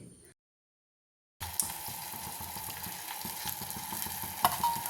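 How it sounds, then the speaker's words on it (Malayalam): A curry mixture with lime juice, salt and turmeric, for a dried fish and okra curry, is sautéed in a pan. After a brief silence comes a steady close sizzle with continuous stirring and scraping. "എന്നിട്ട് നന്നായിട്ടൊന്ന് വഴറ്റി കൊടുക്കുക"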